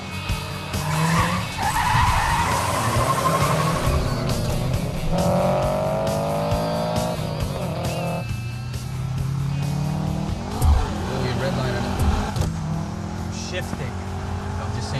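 A car engine revs hard while its tires skid and squeal in bursts, loud and close, with people talking over the driving.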